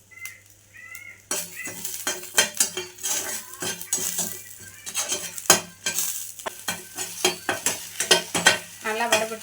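Spices, curry leaves, pepper, cumin and tamarind dry-roasting in a pan, with frequent clattering spoon scrapes and stirring over a light crackle, close and fairly loud.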